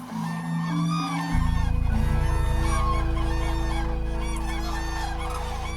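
A flock of geese and cranes calls together in a dense, overlapping chorus of honks and trumpeting cries, steady and loud with no talking.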